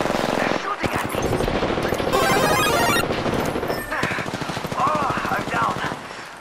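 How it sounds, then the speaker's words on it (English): Heavy automatic gunfire rattles continuously in a battle royale video game fight, loud bursts overlapping with crashes and effects, while a player talks over the chaos. "They're shooting at me."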